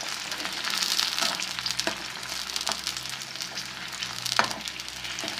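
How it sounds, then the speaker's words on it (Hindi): Aloe vera gel fries in a pan over a low flame, making a steady, even sizzle with soft crackles throughout, close and alone with no talking. "फ्लेम को जो है वो आपने लो रखना है ताकि हम इसको लो पर ही इसको फ्राई कर सकें।"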